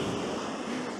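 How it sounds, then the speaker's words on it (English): Ocean waves pound a winter beach at St Ives in Cornwall, a steady, dense roar of surf that fills the whole moment with no voices over it. "Listen to the lovely pounding waves."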